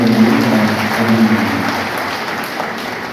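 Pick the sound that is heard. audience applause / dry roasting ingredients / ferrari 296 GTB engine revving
audience applause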